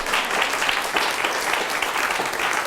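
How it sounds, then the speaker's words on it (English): Audience applause at a London event, a dense, steady wash of many hands clapping close and loud throughout, with no talking over it. "I think that warrants a round of applause"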